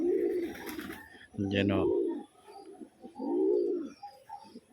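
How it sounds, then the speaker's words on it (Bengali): Free-flying pigeons of various breeds give low, swelling coos in repeated bursts up close, while a person speaks briefly in between. "আমার ছেড়ে পালা বিভিন্ন জাতের কবুতর"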